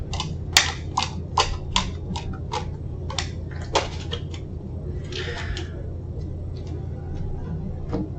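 Tarot cards being handled and drawn from a deck, a run of crisp, close clicks and snaps that slow to a few scattered taps and soft shuffling over a low background hum.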